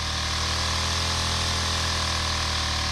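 A motor spinning the warped scanning disc of a homemade mechanical TV at high speed, a loud steady whirring drone with a constant hum, close and unbroken.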